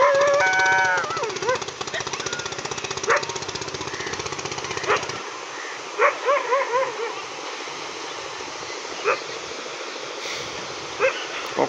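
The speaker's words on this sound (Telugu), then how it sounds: "బోట్ వస్తుంది, మోటార్ బోట్." A fishing motor boat's engine chugs with a dense, rapid rattling drone for about five seconds before cutting out, followed by scattered dog barks and whimpers nearby on the shore.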